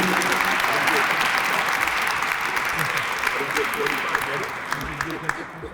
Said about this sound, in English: Please give him a round of applause of appreciation.